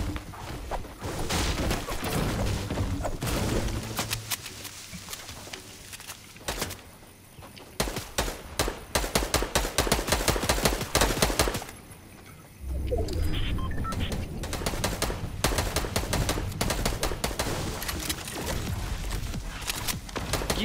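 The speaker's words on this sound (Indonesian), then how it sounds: "Ini orang nembak pohon lagi, Bray." Dense Fortnite gunfire fills the stretch: rapid, sharp bursts of automatic shots, loud and close, broken by a couple of short pauses, with no talking over it.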